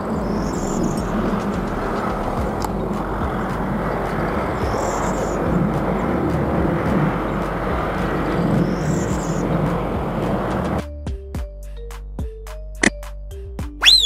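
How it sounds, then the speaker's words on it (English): A police helicopter flies overhead, a steady loud broadband rotor and engine roar that holds for about ten seconds, then cuts away to quieter, sparse tones. "Police helicopter."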